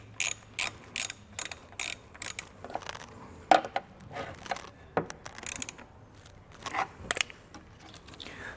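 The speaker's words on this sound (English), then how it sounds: "That's going to allow me to tighten this down" A hex fitting is tightened on a Firestone Air Command Standard Duty air compressor installed on a 2021 Ford, giving a close series of quick ratcheting clicks in short bursts with pauses between them and no talking.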